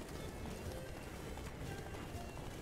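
Galloping horse hooves in The Witcher 3: Wild Hunt, a steady continuous clip-clop rhythm running throughout at moderate level, mixed with game background sound and faint talk.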